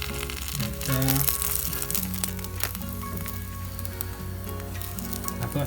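Eggs fry in a pan for huevos rancheros, a close, dense sizzle with crackling spatters and a few soft scrapes as they are turned.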